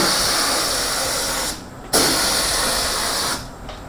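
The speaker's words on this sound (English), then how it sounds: "I'm getting a nice even spray now" A paint spray gun hisses steadily, cuts off briefly, then resumes in a continuous loud spray before stopping again.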